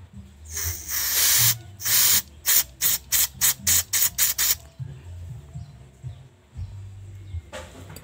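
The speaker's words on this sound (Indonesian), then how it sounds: "kita semprot lewat sini saja ya teman-teman agar nanti hilang kotorannya" Cleaner is sprayed into the carburetor of a Megapro motorcycle with a clogged, stalling engine, first in two long bursts and then in a quick run of about eight short hissing squirts, followed by quieter handling noises and one last brief spray.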